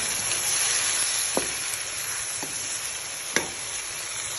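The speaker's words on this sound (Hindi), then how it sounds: "अब हम इसमें टमाटर और हरी मिर्चें डाल देंगे। इनको अच्छे तरीके से हमें मिक्स करना है।" Fried onions with tomatoes and green chillies sizzle softly in a pan while a utensil stirs them, giving a faint continuous fry with three brief sharp clicks or scrapes spread across the stretch, quiet and without talk.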